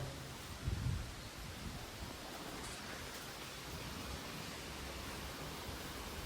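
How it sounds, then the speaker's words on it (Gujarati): Strong wind outdoors by a village temple roars as a steady broadband rush, with a short gusty buffet near the start and no voices. "પવન બી જોરદાર આવે છે"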